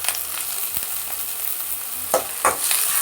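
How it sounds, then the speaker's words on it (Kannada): Masala and coriander leaves fry in a pan for mutton paya soup: a steady hiss of sizzling oil with a couple of sharper stirring scrapes toward the end, close and moderately loud. "ಇದನ್ನು ಹಸಿ ವಾಸನೆ ಆಗೋ ತನಕ ಫ್ರೈ ಮಾಡೋಣ."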